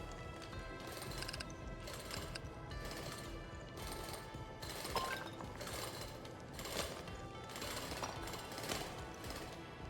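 Drilling through shielding blocks in the Drill Core video game: a rough, steady mechanical grinding with rapid jackhammer-like pulses and periodic heavier bursts, continuous and fairly faint, with no talk.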